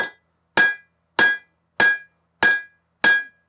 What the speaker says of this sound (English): if you want to draw something out a little faster, you pound it over a rounded area, it'll draw faster